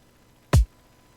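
A single kick drum hit from an electronic music track lands alone, with a short, bright click on top of a deep, booming low end that fades quickly.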